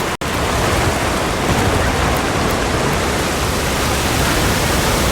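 A heavy downpour in the video game Monster Hunter Wilds roars as dense, steady hiss after a brief cut at the start, loud and unbroken throughout.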